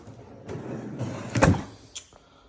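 A workshop drawer holding sanding pads and discs slides open with a rumbling glide, ending in a sharp knock, then a lighter click shortly after.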